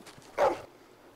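A single short dog bark from a video game version of The Walking Dead, one sharp mid-range burst standing alone over a quiet background.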